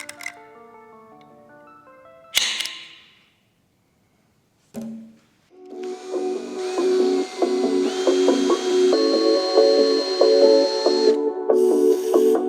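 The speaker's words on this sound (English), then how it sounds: "So I'm gonna drill and tap a little hole here" Drilling and tapping a small hole in the mount of a Warn 8274 high-mount winch: a sustained, whining power-tool run with steady tonal drone and ticking texture, preceded by brief clicks and clatter and a short pause.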